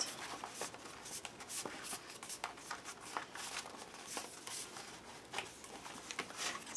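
Scrapbooking paper being folded and creased by hand for a three-hole pamphlet book, a steady run of close, crisp papery rustles and shuffling swipes with no talk.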